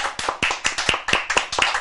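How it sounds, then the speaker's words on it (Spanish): A studio audience claps for a guest at a TV interview, with distinct, fairly close hand claps landing in a quick, uneven rhythm. "Un aplauso para él, por favor."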